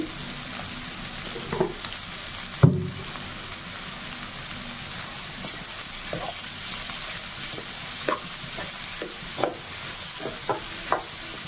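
Egg bhurji with ginger garlic paste and salt sizzles in a pan under a steady hiss, with one sharp knock early on, then light, spaced scrapes of a spatula stirring.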